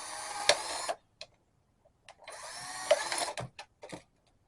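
Two bursts of a small 20-volt Black & Decker cordless drill whirring, each about a second long, with short clicks and pauses between them, close by.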